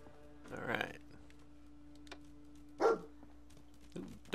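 A dog in Fallout 4 gives a few separate barks with long pauses between them, over a steady low electronic hum.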